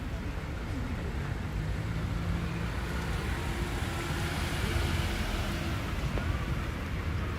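A car drives past on a suburban street in Mount Waverley during an outdoor house auction, a steady road rumble that swells gently midway and then eases, with no clear talk over it.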